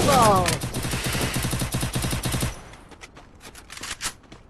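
Rapid automatic gunfire from a shooter video game rattles loud and close for about two and a half seconds, then gives way to a few scattered, fainter shots and game effects.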